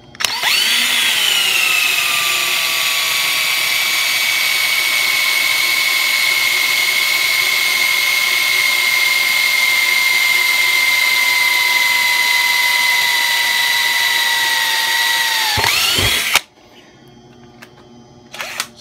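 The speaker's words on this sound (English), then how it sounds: "I always use a little oil on the bit because the copper is soft and it has a tendency to stick, so it makes it cut a whole lot easier." A power drill bores into quarter-inch-thick copper with an oiled bit, a loud steady whine held for about fifteen seconds before winding down, with clunks at the end.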